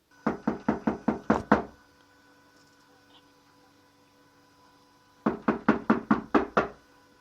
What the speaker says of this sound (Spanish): John llamó a la puerta y esperó.